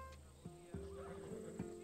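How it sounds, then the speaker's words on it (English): A Macedonian warhorse in Assassin's Creed Odyssey gives a faint neigh with snorts and breathy huffs over a steady quiet game ambience hum. "Ah, the Macedonian. These are bred for battle, a true warrior's horse."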